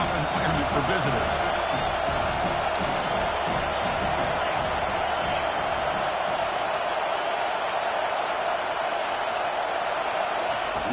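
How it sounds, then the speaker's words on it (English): A steady, loud stadium crowd roar fills a College Football 25 playoff game between LSU and Notre Dame, holding as a dense, continuous wash of noise from start to finish. "Listen to the crowd energy here in the early going."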